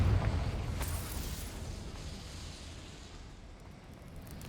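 A Confringo blasting spell explodes in the Hogwarts Legacy video game, a loud low burst at the start that decays into a fading rumble with a faint crackle.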